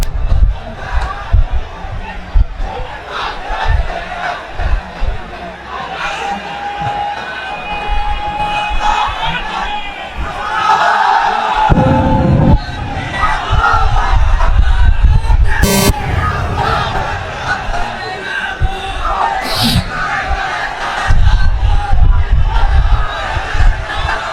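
A large crowd at an outdoor Islamic religious sermon chants takbir in loud, rhythmic unison, repeated call-and-response bursts that rise to a roaring swell, with occasional sharp peaks.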